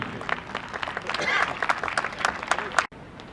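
Audience applause at an indoor Christmas celebration hall gathering, a steady dense patter of many hands clapping for about three seconds, with voices mixed in, then cutting off abruptly.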